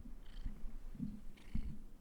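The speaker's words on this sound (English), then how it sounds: "He's purring almost into the microphone." A domestic cat purrs right up against the microphone, a quiet, close, low rumble pulsing in short breaths, with no talking.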